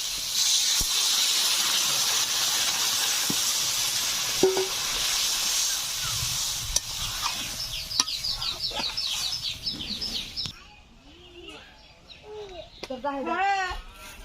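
Water poured into a hot pan of potato curry (aloo dum), bursting into a loud close hiss that slowly fades to quieter bubbling and spitting, with some clatter and a few bird-like squeaks near the end.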